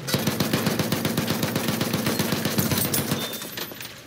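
Rapid bursts of machine gun fire in the video game Battlefield 1 rattle continuously for several seconds, loud and close, with no talking.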